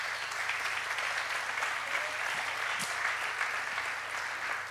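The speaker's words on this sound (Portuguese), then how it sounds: "aplauda o Senhor Jesus." A church congregation applauding during a sermon, steady and even clapping from many hands throughout, with a low hum underneath and no voice on top.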